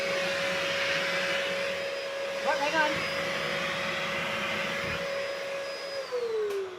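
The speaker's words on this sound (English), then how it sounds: "Would it be weird if I vacuumed right in the middle of this?" A vacuum cleaner runs with a steady whine and airy roar, a brief voice cutting in partway through before the motor pitch drops as it winds down near the end.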